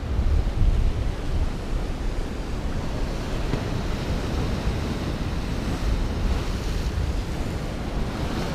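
Ocean waves and surf wash steadily onto a Cabo San Lucas beach as the tide comes in, a continuous close roar mixed with buffeting wind noise on the microphone, with no talking.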